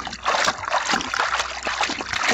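Soapy rinse water is dumped out of a basin of hand-washed jeans, a loud, close splashing pour that gushes and trickles continuously for a couple of seconds.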